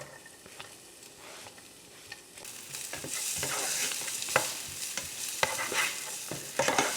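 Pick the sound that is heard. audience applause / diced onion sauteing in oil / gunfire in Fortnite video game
diced onion sauteing in oil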